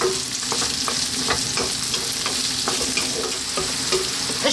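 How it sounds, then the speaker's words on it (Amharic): Green beans fry and are stirred in a pan, with a steady, close sizzle and regular scraping strokes of the stirring utensil throughout. "በቃ ይሄንን ጠብሳለሁ ለ4 ለ5 ደቂቃ"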